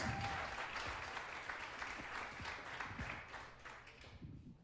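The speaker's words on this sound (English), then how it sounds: "Let's welcome him with a nice round of applause." Guests at a wedding in a park pavilion clap in a warm round of applause, a steady mass of hands that gradually thins and fades toward the end.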